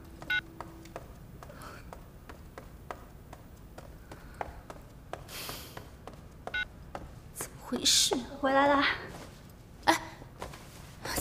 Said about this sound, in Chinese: 这个倩妞干嘛不接我电话？